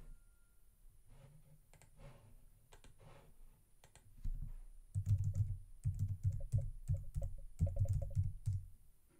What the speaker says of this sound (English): Now open Internet Explorer and type in whatismyip.com.